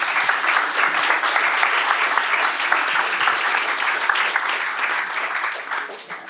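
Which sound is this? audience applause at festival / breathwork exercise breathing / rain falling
audience applause at festival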